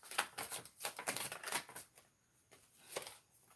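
Tarot cards being shuffled close up in a quiet room: a run of quick papery riffles and flutters, pausing briefly before a final riffle.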